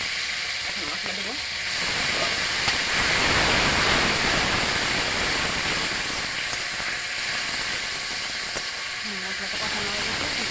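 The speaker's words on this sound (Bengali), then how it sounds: "মশলাটা কষানো হয়ে গেছে, এখন ঢেলে দেবো।" Spice paste being fried in a pan, a dense broadband hiss and steam that swells in the middle and settles again, steady and close, with faint background tones.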